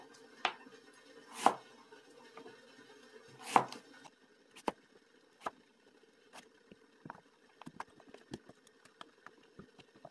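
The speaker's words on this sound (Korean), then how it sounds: "좀 도톰도톰하게 썰어서 깔겠습니다" Knife cutting semi-dried hairtail fish into thick pieces on a cutting board, a handful of sharp chopping thuds spaced irregularly, with two louder strikes early on and lighter taps after, close and fairly quiet with no talk.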